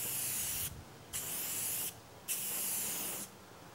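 Spray paint goes onto a piece in light coats in a garage, three bursts of loud hissing spray separated by short pauses, close and alone.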